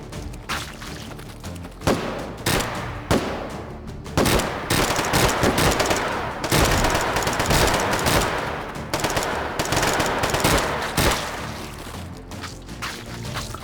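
Rapid gunfire from a gun fired from the hip in the VR shooter H3VR, loud dense bursts of shots that run almost without a break, with brief pauses between volleys.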